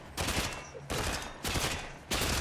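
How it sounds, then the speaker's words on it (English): Video game automatic gunfire from a shooter match, loud rapid bursts of fire in four sustained volleys separated by brief pauses, close and dominant. "stop shooting at me like that"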